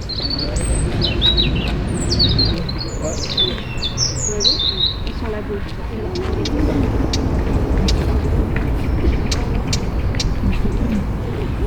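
A blackcap gives repeated sharp tacking alarm calls amid other chirps, over a constant rumble of passing road traffic in a Paris park.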